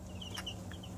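A roosting chicken gives a quick soft cluck or two, faint against a low steady background hum.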